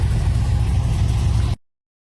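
A pickup truck engine runs with a low, steady rumbling idle for about a second and a half, then cuts off abruptly into silence.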